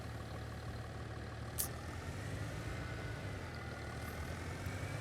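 Farming Simulator tractor engine running at a steady low drone, an even mechanical rumble with a faint higher whine and no change in pace.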